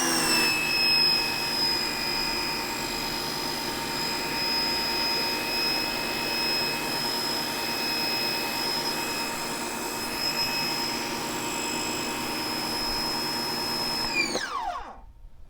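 Ryobi 1800 PSI 1.2 GPM electric pressure washer spraying through its nozzle, a loud steady high-pitched whine and hiss holding constant for about fourteen seconds before abruptly spinning down and cutting off.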